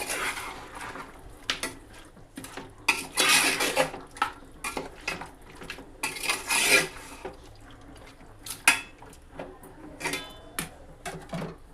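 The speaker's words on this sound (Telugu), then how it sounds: "ఇంకొకసారి కలుపుకుందాం." Chicken biryani mixture with green chillies and cooking water gets stirred in a pot, a spoon scraping and clinking against the metal in uneven bursts, close and fairly quiet, with no talking.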